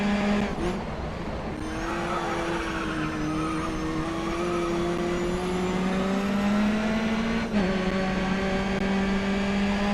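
Race car engines in the video game Grid Autosport hold a loud, continuous whine that rises slowly in pitch through the gears, with a brief dip and shift near the end, up close with no voices.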